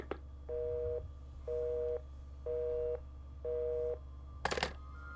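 Four evenly spaced, steady busy-signal beeps from a haunted telephone in the Phantasmat video game, each about half a second long, followed by a brief burst of noise, with no talking.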